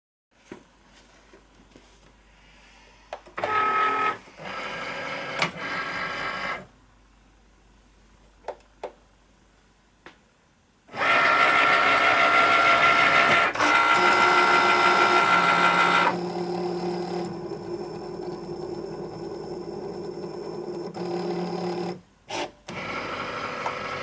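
A Cricut cutting machine running with its rotary blade, whirring in short bursts at first and then in a longer, louder stretch of steady mechanical buzzing, with brief pauses between passes.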